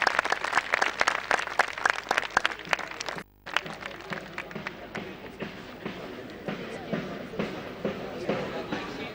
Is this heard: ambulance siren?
no